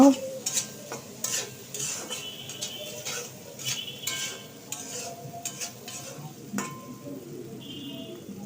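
Small fish heads stirred with salt in a pan, with irregular scrapes and metallic clinks of a spatula over a faint, soft sizzle, close by.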